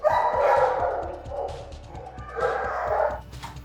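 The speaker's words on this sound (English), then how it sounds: "So this is where the majority of our dogs come. The dogs and puppies of all kinds." Dogs and puppies of many kinds bark, yip and whimper together in a loud animal shelter kennel, with overlapping repeated barks close by and a steady din of yelps throughout.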